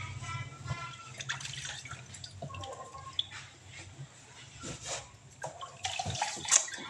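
Balut eggs being washed by hand with water and steel wool, giving soft splashing, dripping and scrubbing sounds with light clinks, fairly quiet and uneven throughout.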